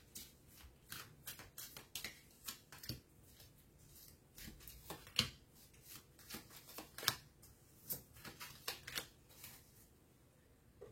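Tarot cards are handled and laid out on a surface, giving a quiet, irregular series of soft flicks, slaps and shuffling rustles up close with no talking.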